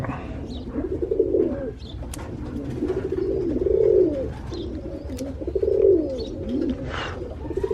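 A pigeon coos in repeated low, rolling phrases roughly every two seconds, close by, while its broken leg is splinted; a faint background hiss sits underneath and no one speaks.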